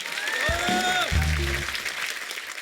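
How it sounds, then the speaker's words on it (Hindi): Studio audience applause on the Kapil Sharma comedy show, a continuous wash of clapping running throughout, with a voice and a musical sting sounding over it early on. "इस बात के लिए तालियां बनती हैं"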